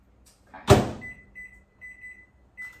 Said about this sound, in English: I'm gonna stick it in the microwave for 15 minutes. So I'm gonna stick it in, get it started